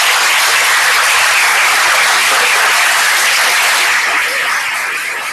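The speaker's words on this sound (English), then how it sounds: "can I ask for a round of applause for all 6 of the" Dense, sustained applause from a conference audience thanking a panel of six presenters, steady and loud throughout before tapering slightly near the end.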